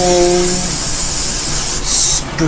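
An aerosol can of hairspray jets onto a layered, teased wig in a loud, continuous hiss that brightens sharply near the end, with a short spoken word at the very beginning.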